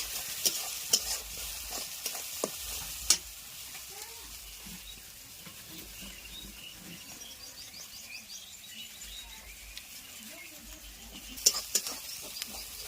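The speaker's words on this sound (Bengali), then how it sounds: "এই যে পেঁয়াজ রসুন ভাজা হচ্ছে, মশলা ভাজা হচ্ছে, রান্না করছি।" Onion, garlic and spices fry in a pan on a village wood-burning stove, giving a quiet, steady sizzle broken by scraping stirs and a few sharp clicks, with faint birdsong in the background.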